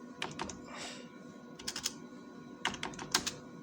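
Keys on a computer keyboard clatter in quick, uneven bursts, close but soft, separated by short pauses while a search is typed into Google.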